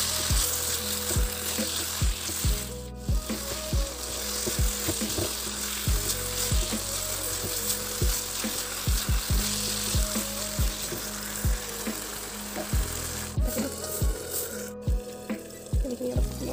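Mushrooms and chopped eggplant frying in a pan, a dense steady sizzle close up, with repeated knocks and scrapes of a spoon stirring through it.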